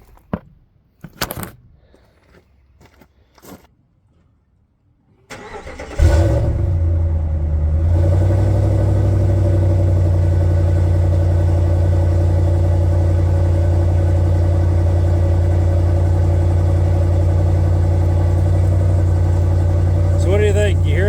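A 2014 Ram truck with its catalytic converter deleted starts after a few clicks and thumps, then settles into a loud, steady low idle rumble that runs on without pause.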